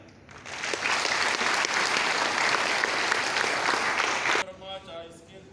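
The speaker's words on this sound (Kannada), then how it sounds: "ಚಪ್ಪಾಳೆ" Dense, steady applause from a crowd at a cooperative agricultural and rural development bank's annual general meeting, rising quickly, holding loud for about four seconds, then cutting off abruptly.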